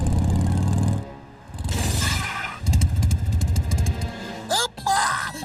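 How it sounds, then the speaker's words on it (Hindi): Cartoon motorcycle engine revs and sputters in bursts among clattering effects and musical stings, loud and busy, with no voices. "वो रही मोटरसाइकिल।"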